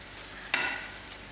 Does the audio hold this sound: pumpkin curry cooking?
yes